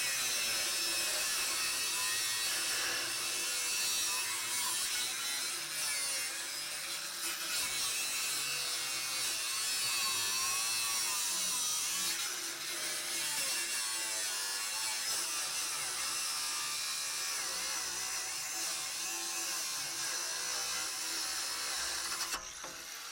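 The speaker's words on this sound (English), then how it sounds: "it's clearly better to use a Sawzall" Sawzall reciprocating saw cutting through the muffler under a C4 Corvette, a sustained loud rasping buzz with shifting pitch for over twenty seconds before stopping abruptly, no voices.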